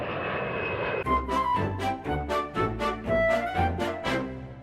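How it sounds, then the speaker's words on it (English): Airplane engines drone steadily during a landing approach, with rhythmic pulsing surges and a smooth underlying hum heard from inside the cabin. "All flight attendants, please prepare for landing."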